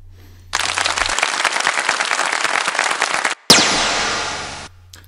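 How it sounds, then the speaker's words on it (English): A burst of enthusiastic clapping for about three seconds, then a sharp synthetic laser zap that sweeps down and fades over a second, both close and loud with no talk. "That was clapping, followed by another laser sound."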